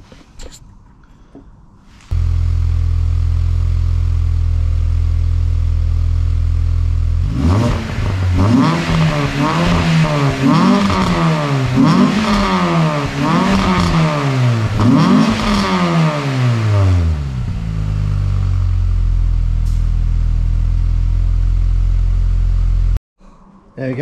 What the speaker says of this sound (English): let's give it a start, see what the exhaust sounds like, and get this warmed up